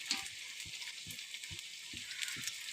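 Pirandai (adamant creeper) frying in sesame oil gives a faint, steady, close sizzle, with soft low thumps repeating at a regular pace underneath.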